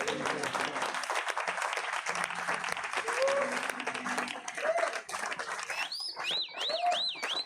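A church congregation at a Wednesday prayer service applauds loudly and steadily while voices shout acclaim. Near the end a wavering, siren-like whistle rises over the clapping and cheering.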